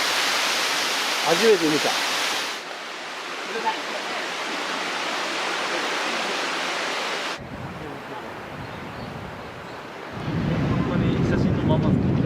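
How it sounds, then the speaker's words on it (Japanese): A waterfall near a rural bakery in Tambа, Hyogo, gives a broad continuous rushing roar that shifts in level as the view changes, with a brief spoken remark early on. "確かにね、滝の音はずっとしてたんやけど"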